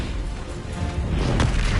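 Bombarda explosion spell in Hogwarts Legacy, a loud, dense blast with a sharp burst near the end over continuous rumbling game noise, with no talk.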